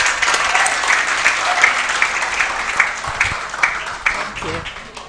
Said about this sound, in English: I love that round of applause.